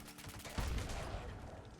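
Explosions and blasts in the video game Fallout 76, a sudden heavy boom followed by a dense crackling, rumbling burst of gunfire, moderately loud, with no talk.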